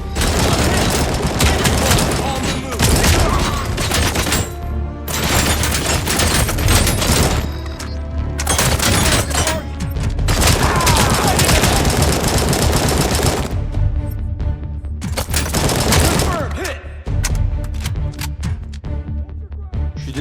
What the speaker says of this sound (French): Robocop sait se servir d'un AK-47.